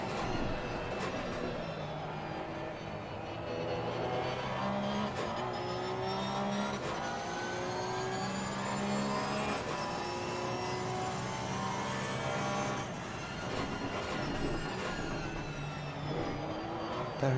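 Porsche GT3 Cup race car accelerating hard at Zandvoort circuit, a steady, loud engine drone with rising and falling pitch across gear changes, running continuously without break and carrying no spoken voices anywhere over it.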